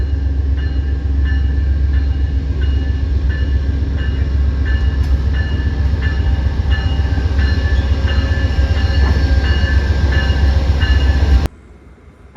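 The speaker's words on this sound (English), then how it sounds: "Today's train is led by P42DC" An Amtrak Maple Leaf passenger train led by a P42DC diesel locomotive arrives, giving a loud, steady low rumble with rhythmic wheel clicks over rail joints for about eleven seconds before cutting off abruptly.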